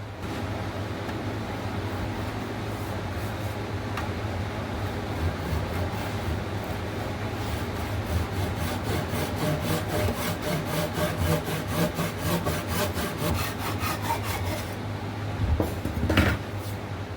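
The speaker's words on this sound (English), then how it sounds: "And then we'll take the flush saw, cut him off flush." Flush saw trimming wood flush on a bench project, a steady run of quick rhythmic rasping strokes, close and continuous with no one talking.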